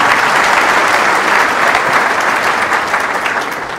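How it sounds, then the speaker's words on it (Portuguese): A business event audience bursts into loud, dense applause welcoming a professor, a thick roar of many hands clapping close and steady that eases slightly toward the end. "Uma salva de palmas, professor Marco Aurélio Viana"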